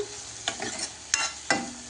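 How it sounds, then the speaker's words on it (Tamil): A spoon scrapes and clatters in a pan a few times over a soft, steady sizzle of tomatoes sautéing for turkey berry tamarind kuzhambu. "தக்காளியும் நல்லா வதங்கணும்"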